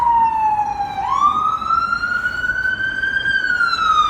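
An emergency vehicle siren sweeps along a residential block, a loud wailing tone that drops then rises slowly as it passes nearby, with faint traffic rumble underneath.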